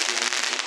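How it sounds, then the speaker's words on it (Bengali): Fireworks crackle and fizz at an inauguration ceremony near the National Press Club, a dense continuous burst of bright crackling filling a brief moment, loud and steady with no talk over it. "আতশবাজি দেখতে পেলাম"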